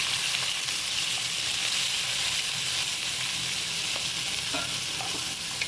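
Freshly washed, still-wet onions hit hot oil in a pan for dhaba-style chana dal, giving a loud, dense, continuous sizzle and hiss close up with no voices.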